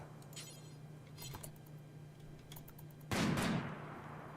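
Assault rifle fire in the colony sim RimWorld: a few faint, scattered pops over a low steady hum, then one louder burst near the end that fades quickly, with no voices over it.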